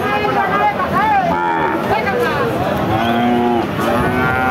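Cattle, bulls and calves low repeatedly at a crowded Chaugachha cattle market in Bangladesh, several overlapping moos rising and falling over a constant loud background of market noise.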